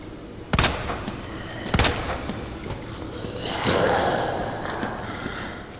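Gunfire in the Resident Evil 2 video game, Leon's campaign: two sharp, close gunshots about a second apart, followed by a softer rumbling burst, with faint background game ambience and no talking.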